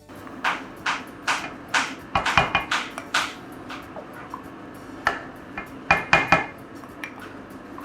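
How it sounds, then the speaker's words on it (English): A spoon stirs a pot of Nigerian native soup made with yellow Scotch bonnet, atarodo and crayfish, giving a string of bright metallic clinks and scrapes against the pot, loud and close and with no voices. "Going to now stir it gently."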